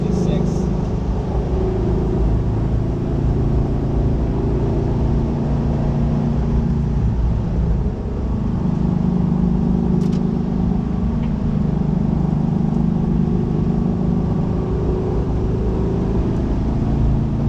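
A 1966 Volkswagen Karmann Ghia engine drones steadily while driving, a continuous low rumble with a slight rise and fall in pitch throughout.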